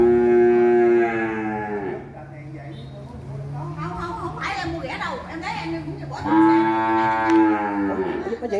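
Cattle on a Vietnamese cattle farm low in two long, loud, close moos, one at the start and one near the end, with voices and farm noise in between.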